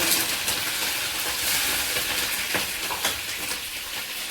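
Peanuts and chana dal frying in hot oil make a close, steady crackling sizzle with occasional stirring scrapes.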